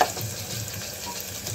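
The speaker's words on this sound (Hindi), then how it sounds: "देखिए फ्रेंड्स, ब्राउन होने तक हम इसको तलते हैं।" Potatoes and green onions fry steadily in a pan, a continuous close sizzle with soft stirring scrapes and no voices.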